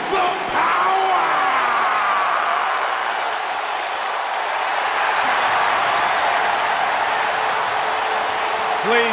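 Big arena crowd at a SmackDown Live wrestling event clapping and cheering for the tag team champions, a loud, dense sustained roar of applause and shouts with occasional brief voices above it.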